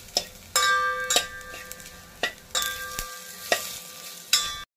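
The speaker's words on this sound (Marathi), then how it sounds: "मिरची सुद्धा मस्त भाजली गेली बघा. फोडणी छान झाली एकदम खमंग." Chillies fry in a hot oil tempering for yogurt kadhi, a steady sizzle broken by repeated sharp clinks and scrapes of a spoon stirring in the metal pan, with a faint steady tone in the background.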